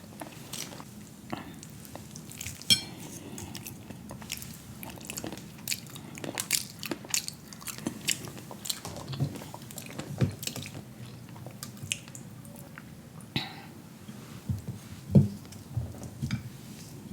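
A mukbang dinner of cornmeal and fish-meal breaded fried fish with onions and dipping sauce is eaten close up, with repeated crunchy bites, wet chewing and small clicks.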